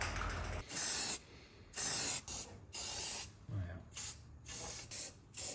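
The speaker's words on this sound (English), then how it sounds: "we're gonna go ahead with the spray painting of the engine bay" An aerosol can sprays in short, close hissing bursts, about eight in a row with pauses between, while the engine bay of a VW T3 Vanagon is being painted.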